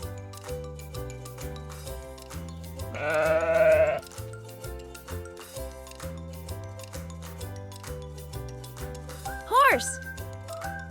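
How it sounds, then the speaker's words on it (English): A farm sheep gives one clear wavering bleat over light rhythmic background music, followed later by a brief higher squeak. "I'm a sheep."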